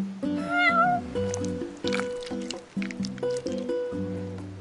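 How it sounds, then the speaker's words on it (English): A cat in Final Fantasy XV meows repeatedly, several short close mews in sequence over tonal game music, with no speech. "You're one spoiled cat."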